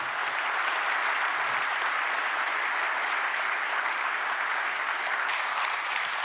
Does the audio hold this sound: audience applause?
yes